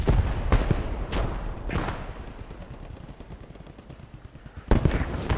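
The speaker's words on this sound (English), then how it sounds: "tank is going to put suppressing fire on that bridge" Gunfire in a multiplayer war game battle at a bridge during a ladder match, rapid bursts of shots and booming reports, close and loud, with quieter rattling fire between the bursts.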